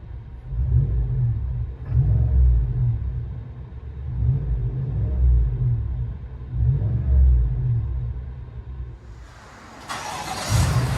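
Deep engine rumble of a GMC/Chevy 6.2L V8 truck with aftermarket exhaust, heard from inside the cab, rising and falling in slow repeated revs, with a brief burst of brighter noise near the end.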